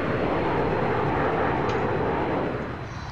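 A jet aircraft in the video game Arma 3 gives a loud, continuous broadband roar that holds steady and eases slightly near the end, with no talk over it.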